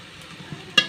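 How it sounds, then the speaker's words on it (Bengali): A spoon stirs helencha greens and potatoes in a hot pan, a soft sizzle under a short scrape with a sharper clatter at the end. "এবার আমি ঢাকনা খুলে শাকটা নেড়ে দেব।"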